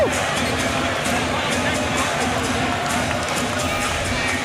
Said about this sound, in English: Boy, that got the crowd. That got the crowd stirred up.